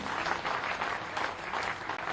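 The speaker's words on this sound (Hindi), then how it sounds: "भाई बसंत शर्मा जी, उनका भी ताली बजा के स्वागत कीजिए।" A crowd at a BJP joining event claps steadily for a welcomed party leader, a dense even wash of applause lasting about two seconds with no voice over it.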